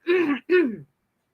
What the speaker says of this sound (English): all clear your throat. Let's clear it.